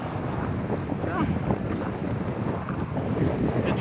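Gusty wind buffets the microphone while paddling a Pungo 140 kayak on open water, a steady loud roar with rustling bursts and a faint voice underneath.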